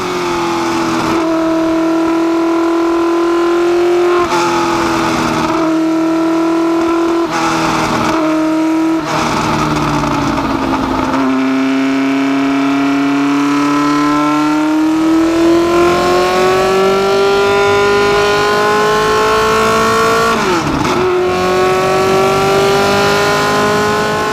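A 1969 four-wheel-drive McLaren M9A race car runs loud and close at Silverstone in fourth gear, its engine note holding steady, dipping on lifts, then climbing in a long sustained rise of revs down the straight.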